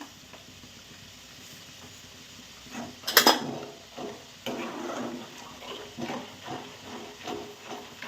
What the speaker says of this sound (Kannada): ಸಾಸಿವೆ ಜೀರಿಗೆ ಸಿಡಿಯಾತಕ್ಕೆ ಒಂದು ಪಟ ಅಂತ